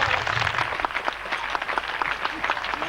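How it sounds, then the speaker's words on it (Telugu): An audience claps at a church prayer-hall gathering after a children's welcome song at a pastor's song cassette release: dense, steady applause from many hands, fairly close and sustained throughout, with faint voices mixed in. "మీరందరూ చప్పట్లు కొట్టండి."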